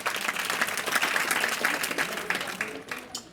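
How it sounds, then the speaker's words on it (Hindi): An audience at a religious discourse claps in a steady, dense round of applause that keeps up evenly before tapering near the end. "ऐसी ताली बजाई जाती है"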